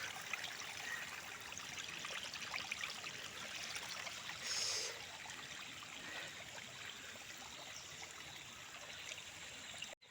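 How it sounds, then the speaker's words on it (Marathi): A forest stream near Thane gurgles and trickles in a steady, faint wash of running water, with no voices. "हे असं खळाळतं पाणी तुम्हाला जंगलात आल्यावरच मिळणार"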